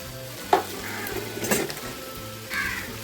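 Ground cooked chicken, boiled with turmeric and blended, tumbles into a hot pan, giving a short sizzle and stirring scrapes at intervals over a low steady hum, close and moderately loud.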